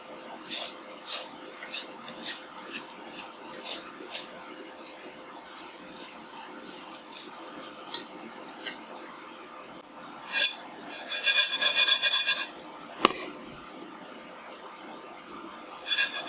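Risotto rice grains are toasted dry in a hot pan, giving repeated rasping scrapes as a utensil stirs the rice, with a louder burst of rattling grains near the end; a voice speaks faintly underneath.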